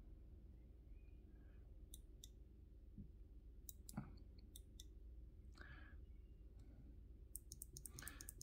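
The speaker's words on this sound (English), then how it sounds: "You hear the clicking sounds of the buttons." Quiet, sparse button clicks on a Suunto 9 Peak sports watch, single presses and a quick cluster near the end, over a faint low hum.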